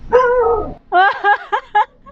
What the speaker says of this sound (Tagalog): yung aso ko gustong mag-intro din